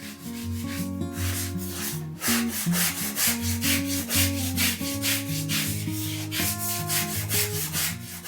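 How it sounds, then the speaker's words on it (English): Rhythmic rubbing strokes of sanding dried grain filler on wood repeat steadily, up close, with music playing underneath. "now she's going in and sanding it down"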